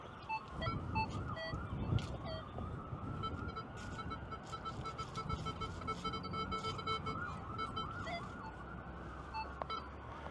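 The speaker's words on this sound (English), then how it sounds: "I hear sirens" Faint wailing emergency vehicle sirens rise and fall in the distance over a low background rumble in a park, continuing steadily throughout.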